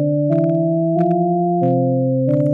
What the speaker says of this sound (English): If I turn on my release envelope a little bit higher, it's going to sound like this.